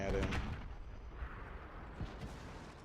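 Tank cannon fire in World of Tanks, heavy artillery-like booms with a sharp opening blast and a couple of fainter shots after, heard under a talking voice.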